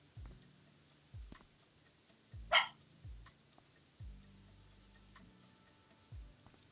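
A dog barks once, sharp but fairly faint, inside the PowerWash Simulator video game at a skatepark level, set among soft repeated low game tones and thumps.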